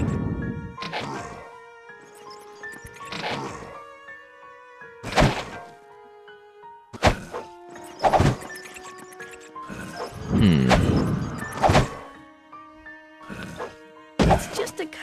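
Shooting and hitting zombies in the fantasy role-playing game Might and Magic VII, with a series of sharp thunks and impact hits spaced every second or two, accompanied by tonal game effects.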